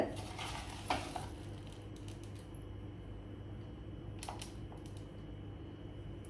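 Mustard seeds and urad dal go into hot oil in a pan and set off a soft sizzle, with a few scrapes and light clinks of a utensil against the pan. The sound is faint and close, with no talking.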